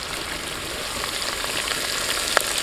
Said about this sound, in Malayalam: നമ്മുടെ ഇഞ്ചിയും വെളുത്തുള്ളിയും പച്ചമുളകും കടുക് ഉലുവയും എല്ലാം ഇതിനകത്ത് നല്ല രീതിയിൽ വഴണ്ട് വരുന്നുണ്ട്